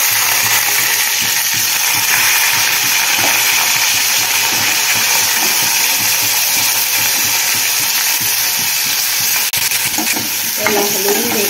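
Eggplant stuffed with salt and turmeric sizzling in hot oil, a loud, continuous close-up hiss and crackle with faint stirring clatter near the end.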